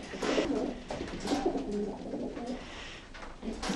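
Racing pigeons coo softly in repeated throaty bursts, close by in a pigeon loft, with a faint rustle of background noise between calls.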